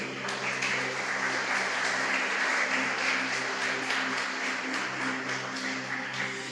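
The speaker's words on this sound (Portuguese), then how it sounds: "Você pode dar um aplauso para o Senhor?" Church congregation applauding during a sermon, a dense, steady wash of many hands clapping that fills the whole stretch at an even, sustained level without any speech.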